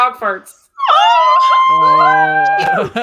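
A dog howls and yelps in long, drawn-out wavering tones close by, loud and siren-like, following a short burst of sound at the start.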